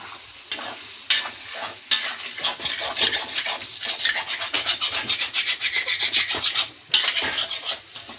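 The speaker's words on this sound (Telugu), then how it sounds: "ఆయిల్ పోసుకోవాలి, మళ్ళీ కొంచెం ఫ్రై చేసుకోవాలి." Egg frying in oil in a pan for egg fried rice, with a utensil repeatedly stirring and scraping through it, a close, steady rhythmic rasp over a constant sizzle.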